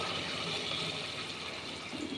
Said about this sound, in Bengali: এখন আমি এখানে জলটা দিয়ে দেব।